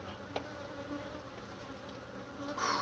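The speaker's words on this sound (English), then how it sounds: "That black comb is covered with bees." A dense colony of honeybees swarms over dark comb inside a house wall during a removal, a steady close buzzing hum that swells toward the end.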